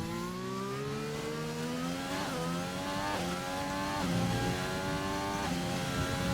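A race car in a sim racing game on a flying lap at the China circuit, its engine screaming steadily and rising in pitch through each gear, with quick upshifts and brief dips as it accelerates alone.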